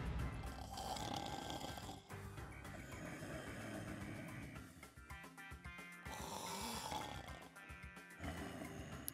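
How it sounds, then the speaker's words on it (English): A character snoring in the game One Piece: Kaizoku Musou 3, with two long, rough, rumbling snores under game music and effects. "He's like seriously snoring."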